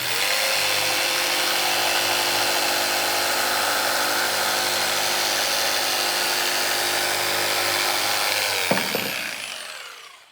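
A power saw cuts a piece of wood for a bench, making a loud, steady rasping whine that holds for about nine seconds, then drops off sharply as the cut finishes and the motor winds down.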